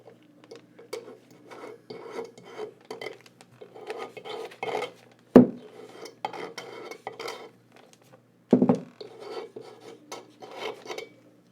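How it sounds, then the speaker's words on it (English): A knife edge scrapes stray epoxy from the rim of a DIY epoxy tumbler, giving quiet, irregular rasping strokes with two sharper clicks of the blade against the cup. "you're basically just going to run the edge of your knife around the edge of your rim and get out any large or small epoxy pieces"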